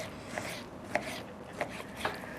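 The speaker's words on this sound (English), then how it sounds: "So I'll quickly just cut that up into small pieces" A knife cuts beef eye fillet into small stir-fry pieces on a board, giving several quiet, evenly spaced chops over a faint background.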